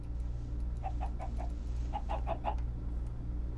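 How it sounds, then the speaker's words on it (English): A Minecraft chicken clucks in two quick clusters of short, fairly faint clucks over a steady low game hum, with no talking. "We got an invincible chicken here."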